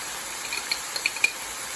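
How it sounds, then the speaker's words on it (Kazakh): Minced meat frying in a pan, with a steady bright sizzle and a few light clinks of a utensil stirring through it, close and moderately loud with no voices. "Farşımız қуырылып жатыр."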